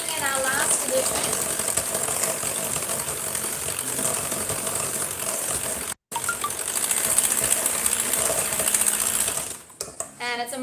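A whisk beating frangipane batter for vegan fig tarts with vanilla bean, a steady busy scraping and clatter against the bowl, close and continuous with a brief gap midway.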